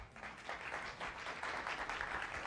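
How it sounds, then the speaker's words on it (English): An audience claps steadily for a speaker at a Science Cafe event, a faint, continuous patter of many hands that lasts throughout without a break. "They're already clapping for you."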